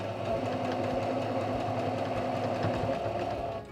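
A sewing machine stitches quilt pieces together along a quarter-inch seam, a steady close mechanical hum with rapid rhythmic needle clatter running without a break.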